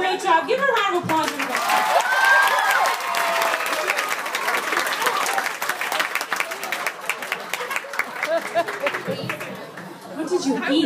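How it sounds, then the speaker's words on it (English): Audience at a comedy club bursts into loud, sustained applause with cheering and crowd chatter, slowly thinning toward the end. "Give her a round of applause."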